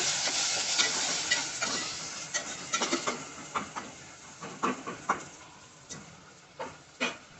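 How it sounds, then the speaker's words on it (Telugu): Ginger garlic paste fries in a pressure cooker while making mutton curry, a steady close sizzle with a run of sharp spattering pops and scraping stirs. No one speaks. "అల్లం వెల్లుల్లి పేస్ట్ కూడా రెండు టేబుల్ స్పూన్లు యాడ్ చేసుకోండి పచ్చివాసన పోయే వరకు చక్కగా ఫ్రై చేసుకోవాలి"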